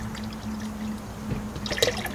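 Water pours into a fermenting jug of homemade grape wine, a soft steady splashing wash over a low hum, with a brief louder gurgle near the end.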